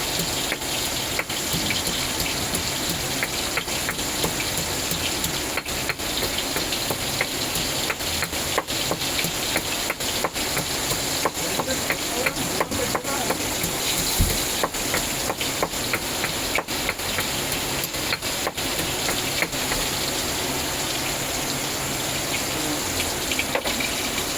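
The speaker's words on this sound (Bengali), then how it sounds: "ও বৃষ্টিটা দেখ বাবা" Steady rain falls on a rainy day, a dense, even hiss that stays loud and unbroken throughout with no voices.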